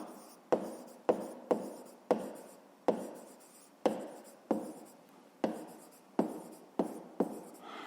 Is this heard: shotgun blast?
no